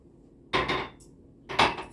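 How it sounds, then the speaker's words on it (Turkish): Dishes are gathered up after breakfast: two close clattering bursts of plates and cutlery knocking together, separated by a quiet pause in a home kitchen. "Bulaşıkları topluyorum."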